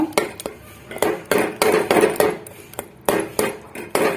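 A utensil repeatedly strikes and scrapes inside a pot as tomatoes are mashed for tomato rasam, producing sharp, close metallic clanks in an uneven rhythm of about a dozen hits.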